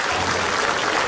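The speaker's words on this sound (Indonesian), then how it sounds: "tepuk tangan dulu dong" Brief burst of studio audience applause on an Indonesian comedy talk show, dense clapping filling the moment alone without talk.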